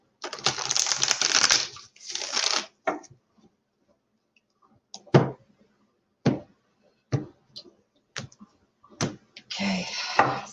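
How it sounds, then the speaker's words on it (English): Tarot cards shuffled by hand: a crisp riffling whir up front, then scattered single taps and card slaps spaced through quiet gaps, and another riffle near the end, close and fairly loud. "one more shuffle"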